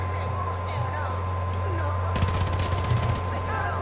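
A rapid burst of automatic gunfire erupts partway through a Far Cry 5 scene, a fast chattering volley over a steady hum of game ambience and music.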